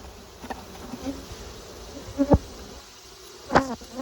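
Faint, steady humming of honey bees at a hive, with a few sharper buzzes passing close by, set against a low background hum.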